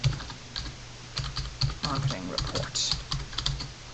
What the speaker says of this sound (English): in here I'm just going to type in